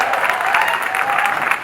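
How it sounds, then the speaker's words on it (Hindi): Audience applause at a Hindi motivational speech event, a dense, sustained wash of clapping from a large crowd with no talking over it. "आप सब अपने लिए जबरदस्त तालियां बजाइए"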